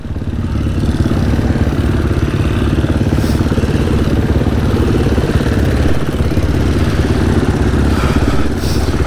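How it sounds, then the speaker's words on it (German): A cold supermoto motorcycle engine idles steadily at close range to warm up before a race at Motorsport Arena Oschersleben, a continuous low rumbling putter with a faint mechanical clatter, no voices. "Lass mein Motor noch etwas warm laufen, der war jetzt recht kalt."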